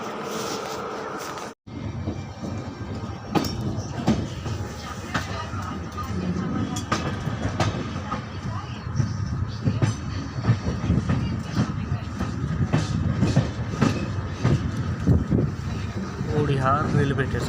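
The Suhaildev Superfast Express (22434) rolls along the track with a steady rumble and repeated clickety-clack from the wheels, heard from on board, while a voice talks over the noise.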